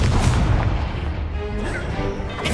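A Confringo blasting spell explodes in Hogwarts Legacy, a loud, close, booming burst with heavy low rumble that rolls on and decays over a couple of seconds.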